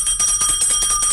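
A small hand bell rings in a quick, bright, continuous jangle, close and alone, in a theatrical radio play of Molière's The Imaginary Invalid.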